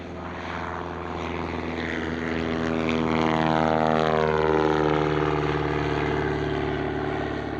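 A Bristol F2B vintage biplane flies an airshow display, its propeller engine droning steadily and swelling as it passes, with a clear Doppler pitch sweep as it goes by.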